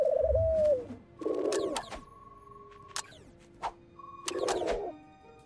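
Pigeons coo in a Spidey cartoon, with two rounded bursts of cooing mixed among sharp cartoon sound effects and a short whistling tone, fairly close and clear.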